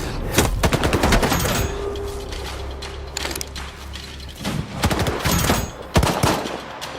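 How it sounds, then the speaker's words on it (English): Bursts of automatic gunfire in a S.T.A.L.K.E.R. 2 cutscene, sharp rapid cracks in clusters with mechanical clatter between them, loud and close. "Why are they shooting at us?"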